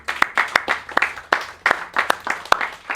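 Audience applause at the Gabon Bitcoin Day conference, many hands clapping in brisk, slightly rhythmic bursts, close and lively throughout.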